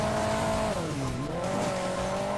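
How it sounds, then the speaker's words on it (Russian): A rally car in the Hill Climb Racing 2 video game drones steadily, its engine note dipping and climbing again, loud and continuous with no talking. "неизменно еду на своей раллийной машинки"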